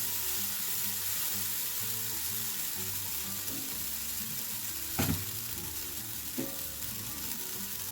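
Dosa batter cooks on a hot oiled griddle, giving a soft, even sizzle throughout with a couple of brief clinks of a utensil partway through.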